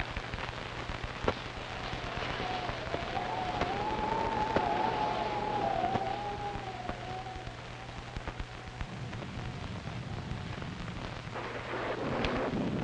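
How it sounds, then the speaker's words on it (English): Steady rain with low rumbles of thunder, heard softly and at a distance in an old 1943 mystery radio drama, joined by a wavering tone in the middle and a few sharp cracks. "liable to rain all night."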